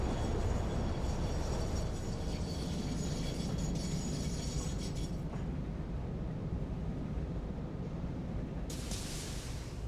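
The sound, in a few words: train in Satisfactory video game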